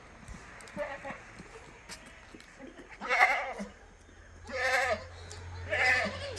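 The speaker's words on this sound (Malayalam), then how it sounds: "വലിയൊരു മലബാരി ആട് നല്ല കനുള്ള വലിപ്പുള്ള ആട്" A large, heavy Malabari goat gives three loud, wavering bleats a second or so apart, with quieter rustling and faint farmyard noise between them.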